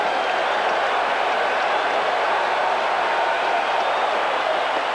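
A packed baseball stadium crowd during the 1986 World Series between the Boston Red Sox and New York Mets, a loud, continuous roar of cheering and clapping that stays dense and steady throughout.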